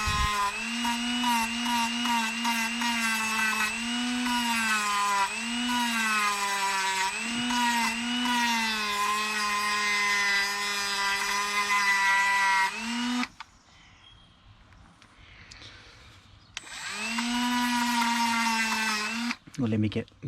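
A power sander whines steadily at close range, sanding a brake calliper on a Subaru Impreza, its pitch wavering slightly, then cuts out briefly before starting up again; no one speaks.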